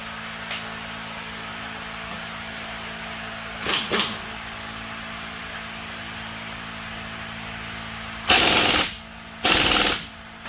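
A power tool torques bolts on a 1964 Ford Thunderbird during a rear air ride install. A few short rattling bursts sound over a quiet shop hum, and the last two loud, close bursts come in quick succession.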